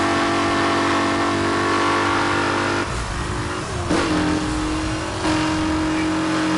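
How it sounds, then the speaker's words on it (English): Racing car engine in the Need for Speed Hot Pursuit video game droning loudly and continuously, with the pitch dipping and shifting as the car brakes and accelerates through a corner, the tone sounding odd and strained. "Does this car sound really weird? It's got a weird sound."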